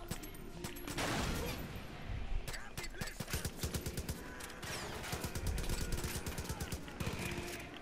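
Rapid gunfire in the video game Far Cry 5, with a run of sharp shots cracking in quick succession and clustered bursts over several seconds, a voice talking now and then beneath the firing.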